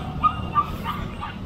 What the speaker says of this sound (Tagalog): Aso yata.